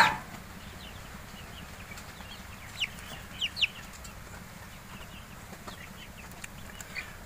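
A few faint, brief chirping clucks from tiger-breed chicks kept apart from a sick hen rise over steady background hiss, spaced irregularly across a quiet stretch.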